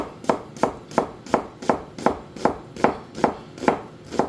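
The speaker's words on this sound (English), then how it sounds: "just cut this into thin slices" A knife slices a big yellow onion into thin slices on a board, about a dozen crisp, evenly spaced chops in a steady, brisk rhythm, close and alone with no talk.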